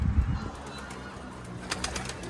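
A Mardin pigeon, a domestic breed, gives a few soft, low coos and brief rustles at close range over a faint background hum.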